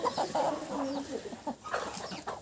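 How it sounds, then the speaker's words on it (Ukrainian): Chickens cluck close by in short, irregular bursts, with several birds, including a young naked-neck rooster, calling over one another against a quiet farmyard background. "Такий ось тут півник голошийка молоденький бігає"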